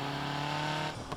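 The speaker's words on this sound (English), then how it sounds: "The turbo noises alone, and they are different depending on the RPM." Turbo whine from a car engine in NFS Heat with the Unite 3.0 mod, a soft, steady tonal hum with engine drone that cuts off near the end, heard alone.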